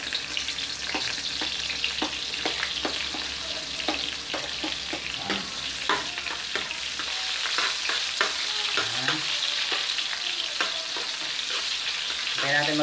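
Chopped onions sizzle steadily in a hot pan for gizzard adobo, with a broad, continuous frying hiss and occasional clicks and scrapes of stirring throughout.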